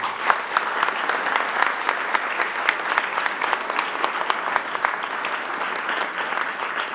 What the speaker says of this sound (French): Je pense qu'on peut les applaudir pour les remercier.